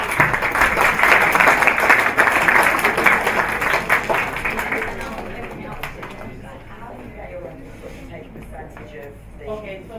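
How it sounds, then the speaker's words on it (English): Audience applause at a live academy launch event, a burst of clapping that is strong at first, thins out after about five seconds, and gives way to scattered claps with voices talking. "So just a round of applause."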